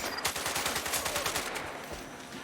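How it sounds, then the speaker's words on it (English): Enemy automatic gunfire in Sniper Ghost Warrior Contracts 2, a rapid burst of sharp repeated shots, steady and fairly loud, fading slightly toward the end. "We have enemy fire somewhere near"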